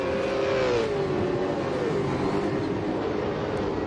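V8 race cars in the Aussie V8 Championship sim racing game at Surfers Paradise, engines droning loudly and steadily as one car's tone sweeps down through a gearshift, then holds a continuous mid-pitched roar.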